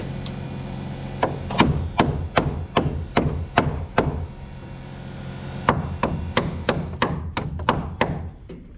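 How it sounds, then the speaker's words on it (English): Repeated sharp hammer strikes driving nails into wooden roof rafters, a steady series of about a dozen blows, then a short pause and another quick run of hits, close and loud. "Hammer those the rest of the way down."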